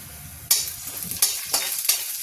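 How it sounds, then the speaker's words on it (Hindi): Whole coriander and cumin seeds hit hot oil in a pan for a spice tempering, giving a close, loud sizzle that flares in four sharp bursts as more goes in or gets stirred, with no talking. "ये तेल मेरा गर्म हो रहा है, इससे हम डालेंगे धनिया और जीरा।"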